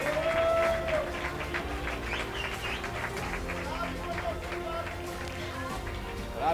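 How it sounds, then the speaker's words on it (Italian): A crowd applauds the Brentino Belluno team at the Palio delle Botti in Vittorio Veneto, a sustained spread of clapping under an announcer's amplified voice. "facciamogli ancora un bel applauso alla squadra di Brentino Belluno"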